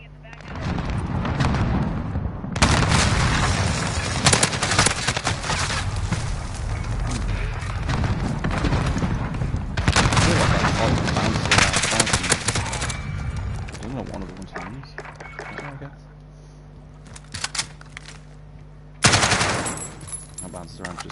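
Automatic gunfire and heavy blasts from a Modern Warfare video game shootout, loud and dense in long sustained bursts with short gaps, tapering to quieter scattered shots before a final loud burst.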